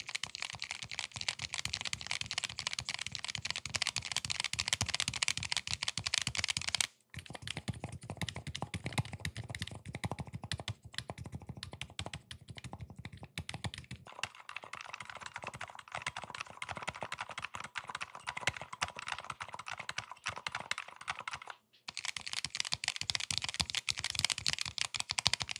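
Steady, fast typing on a mechanical keyboard, with three different switch types heard in turn: dense clacking keystrokes close up, broken by two brief pauses where the switches change, with no talking.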